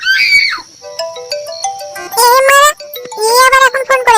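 A loud, melodic phone ringtone plays a string of bright electronic notes, with a brief voice-like sound near the start.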